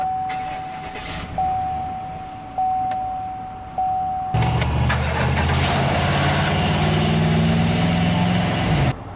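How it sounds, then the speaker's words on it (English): 2019 Chevrolet Silverado 1500 LTZ Crew Cab Z71 pickup: a few chimes and dash beeps, then a push-button start cranks the engine, which catches and settles into a steady, smooth idle, close and alone. "let's go ahead and start the engine. And it does have push-button ignition."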